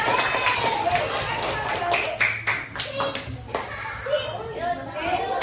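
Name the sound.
classroom children clapping for groups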